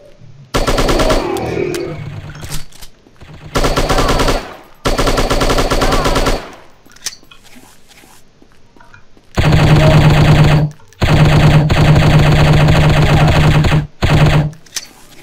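Enemy gunfire in the shooting video game Striker, loud long bursts of rapid automatic fire separated by short quiet gaps.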